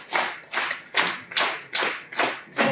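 A comic-dialogue theatre audience claps in steady unison rhythm, seven even bursts of applause at a moderate pace, fairly distant with no talk over it.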